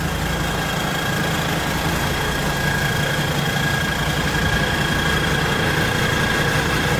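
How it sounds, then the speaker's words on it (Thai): A five-cylinder twin-turbo JO 7C engine on a Thai rotary tiller tractor idles steadily and loudly up close, a continuous low rumble with a faint whine above it and no talking. "รถปั่นนาพลัง 5 สูบ เสียงก็ดังหวานนี่นะหวานเจี๊ยบเลย"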